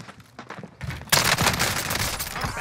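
Dense video game gunfire in Warzone's Rebirth Island battle royale: sparse shots at first, then a loud, sustained barrage of rapid automatic fire from about a second in.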